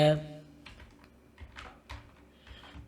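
Quick keystrokes tap out a prompt on a computer keyboard in short, uneven bursts, close and fairly quiet, right after a brief bit of speech at the start.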